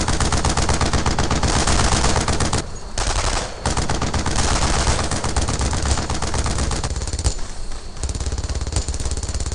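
Sustained automatic and rifle fire in the World War II shooter Brothers in Arms: Earned in Blood, loud rapid bursts running almost nonstop with a couple of brief pauses.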